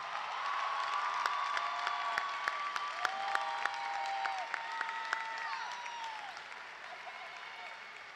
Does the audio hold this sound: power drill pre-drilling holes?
no